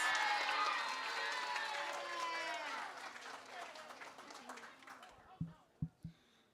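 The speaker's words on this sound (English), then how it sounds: "Give him a round of applause." Audience at a fifth-grade moving-up ceremony clapping and cheering, with a crowd of voices over the applause that fades out, leaving a few last scattered claps at the end.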